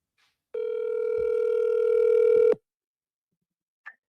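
A single long ring tone of an outgoing phone call, a steady two-second electronic tone, loud and alone, followed by a brief faint blip.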